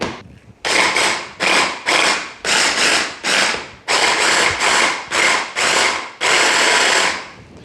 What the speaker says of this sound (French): Donc on va venir mixer par à-coups.